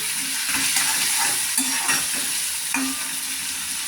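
Tomatoes sautéing in oil in a pan for a country-chicken egg curry hiss steadily up close, punctuated by several soft knocks and scrapes of stirring.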